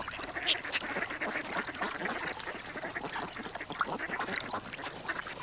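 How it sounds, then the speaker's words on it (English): Mallard ducks quack on a winter marsh, including a female, with a busy, continuous chorus of overlapping quacks at close to moderate distance. "A female mallard shows her willingness to mate to a male who, at first, seems quite uninterested"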